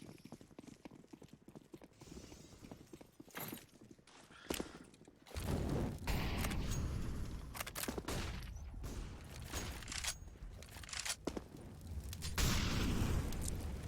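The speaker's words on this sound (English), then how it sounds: "He hears the AK." AK rifle gunfire in a competitive shooter match, with sharp shots and bursts scattered over game ambience that turns to a louder, denser rumble partway through.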